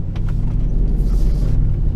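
Steady low engine and road rumble inside the cab of a Ford Raptor pickup truck as it drives down a street, a constant droning hum with no talk.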